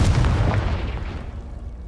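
A Confringo spell blast in Hogwarts Legacy: one heavy, close boom that rumbles and slowly fades over about two seconds.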